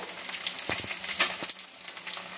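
Capsicum and onion frying in a pan for a mixed vegetable curry, a soft, steady sizzle with scattered crackles and a few light clinks of stirring.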